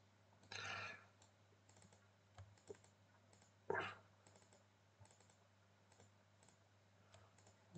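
Computer mouse clicks at a desk during 3D modelling work in Maya, a few sharp clicks including quick double-clicks spaced across quiet gaps, close and fairly soft over a low steady hum.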